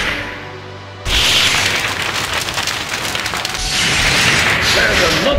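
A fire spell blast in a Harry Potter film: after a quiet opening, a sudden loud roaring burst of crackling, rushing flame that stays dense and noisy to the end.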